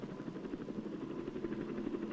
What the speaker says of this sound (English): The whir of the helicopter is becoming a familiar sound as it passes back and forth in its work of fertilizing or fumigating valuable crops.